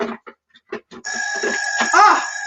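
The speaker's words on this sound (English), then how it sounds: "Beeping." A charger gives a few short broken sounds, then a continuous high electronic beeping tone with a shifting warble that holds steady to the end.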